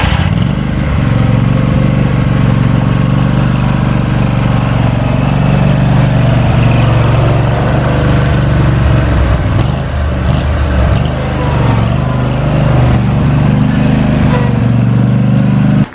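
A Yamaha YZ450 dirt bike engine runs steadily and loudly up close, a continuous rough motor drone holding throughout without pause.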